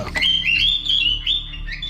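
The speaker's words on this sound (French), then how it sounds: "Vous entendez ce bruit en arrière-plan ? Il s'agit de Perceval, son oiseau de compagnie" A pet bird chirps steadily in the background, a continuous run of bright high tweets and trills with no one talking over it.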